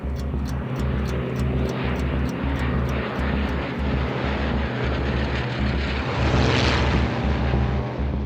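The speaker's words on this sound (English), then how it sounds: "observers spot the first wave of Luftwaffe aircraft heading across the channel" Luftwaffe bomber formations crossing the Channel toward London produce a steady, heavy engine drone with a rhythmic throbbing pulse, continuous and loud throughout.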